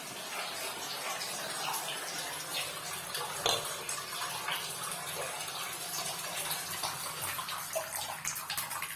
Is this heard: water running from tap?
yes